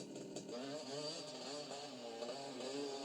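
A motorcycle engine in a video game idles with a steady, buzzy, slightly wavering drone that runs unbroken from start to finish at even loudness.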